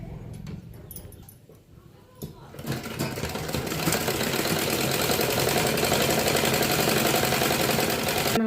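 Electric sewing machine stitching an embroidered blouse, running in a steady loud whir that starts after a couple of seconds of quieter clatter and continues unbroken to the end.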